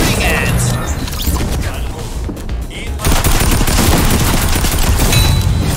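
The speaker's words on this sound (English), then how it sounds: "Got gunfire to the north." Gunfire crackles through a Fortnite Battle Royale match in loud, dense bursts of automatic shots that are nearby and continuous, with players talking over the shooting.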